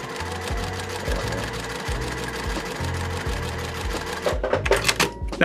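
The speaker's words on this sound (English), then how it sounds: "I'm going to sew those together." A sewing machine stitches pieced quilt blocks of half-square triangles in repeated short runs of steady whirring, with brief pauses between seams, close and clear, ending with some handling clatter.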